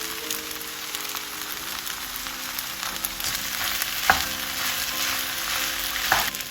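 Rice with chicken and a ladle of sauce being stirred together in a hot pan for omurice, a steady sizzle running throughout with scraping stir strokes and a couple of sharper knocks.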